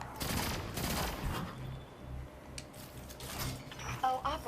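Rapid gunfire in Destiny 2 as players shoot at mines, bursts of shots mixed with game effects and background sound, with a voice talking over it.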